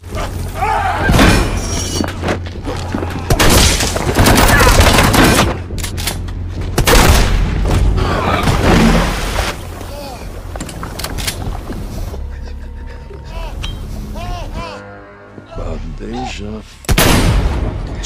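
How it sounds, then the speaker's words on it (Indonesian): Rapid bursts of gunfire and heavy booms crack through a chaotic bank-robbery shootout in the film The Channel (2023), coming in loud clusters with brief lulls and voices mixed in. "tembak-tembakan pun tak terhindarkan"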